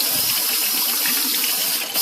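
Tap water runs in a steady, loud gush into a sink as its temperature is tested for bannock dough, an unbroken close rush with no voices.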